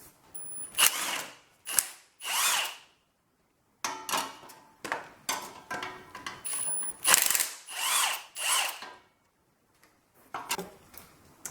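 A power tool works on a Ford 300 engine's thermostat housing during a teardown: repeated short bursts of whirring and ratcheting, about a dozen spurts separated by brief pauses, close and moderately loud, with no talking.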